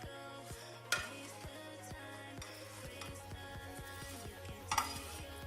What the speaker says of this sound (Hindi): थोड़ा सा ब्राउन प्याज ऐड करेंगे।